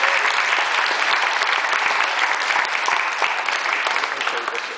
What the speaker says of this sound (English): so could we give a round of applause for Jimmy?